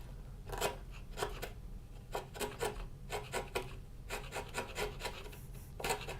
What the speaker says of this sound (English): So I'm going to grab the chisel, both thumbs forward,